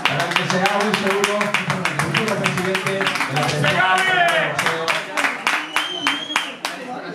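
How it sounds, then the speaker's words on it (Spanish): Rhythmic, fairly close clapping from an audience at a professional boxing weigh-in, sharp regular claps in time while a voice and crowd talk carry on underneath. "fuerte el aplauso"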